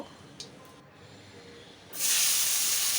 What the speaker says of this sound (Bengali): দিয়ে দিলাম তেজপাতা গোটা জিরে ফোড়নটা ভালো করে ভেজে নিব